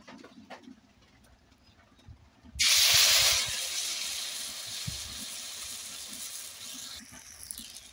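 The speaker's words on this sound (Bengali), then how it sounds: "কড়াইটা গরম হয়ে গেছে, এবার দিয়ে দিচ্ছি অল্প পরিমাণ সাদা তেল।" A small amount of white oil poured into a hot wok, a sudden loud burst of hissing sizzle that settles into a steady, fizzing crackle after a few quiet, faint clinks.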